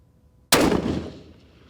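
A single sharp rifle shot cracks at an outdoor shooting range after near silence, loud and close, its report rolling off and fading over about a second.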